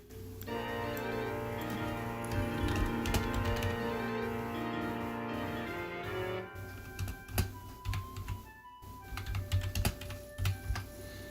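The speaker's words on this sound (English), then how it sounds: "I have a typewriter type of keyboard that you can clearly hear every single letter type" A typewriter-style mechanical computer keyboard clatters loudly and steadily under fast typing, then breaks into sparser, irregular bursts of sharp key clicks.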